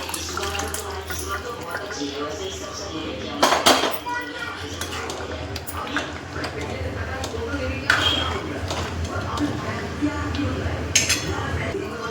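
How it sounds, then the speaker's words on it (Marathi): Metal pots and utensils, including a pressure cooker being washed, clank and clatter against each other with running water, several sharp knocks standing out over the steady washing noise. "हे कुकर धुवून टाकते मी आता."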